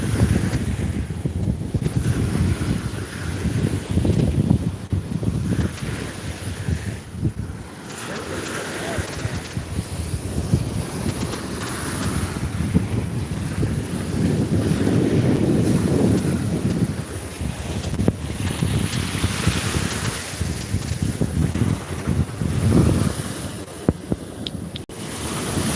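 Strong wind buffets a boat at sea as rough waves slap and rush against the hull, a continuous loud roar with gusty surges, while people talk faintly over it.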